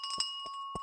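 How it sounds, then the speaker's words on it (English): London Stock Exchange opening bell: three short bright rings at steady intervals, each with a sustained metallic tone, fairly faint and heard alone. "We've got the London Stock Exchange opening bell"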